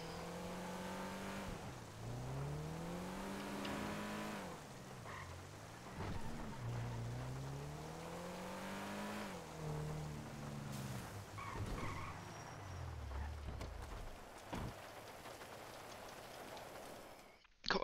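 Engine roars with repeated revs and gear shifts as a car drives in GTA Online, its tyres skidding and screeching at moments, a thump near the end, no talk.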